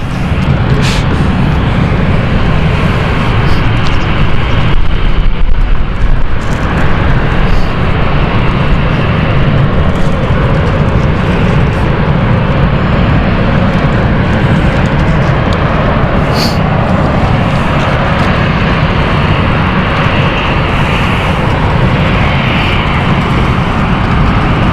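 An airliner departs London City Airport with a loud, sustained jet roar that stays steady and close throughout, heard alone without any voices.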